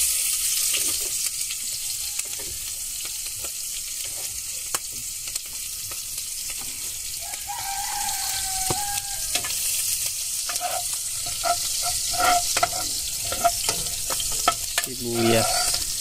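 Onions sautéing in a pan for a Bisaya vegetable soup (utan), a steady broad sizzle with scattered clinks and scraping of a utensil stirring, louder bursts of clatter near the end, no talk.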